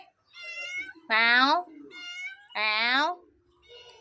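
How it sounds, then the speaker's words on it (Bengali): A cat meows repeatedly for hilsa fish, with two loud, drawn-out meows and softer mewing between them, close and clear against a quiet background. "দেখো বিড়াল ম্যাও ম্যাও করছে"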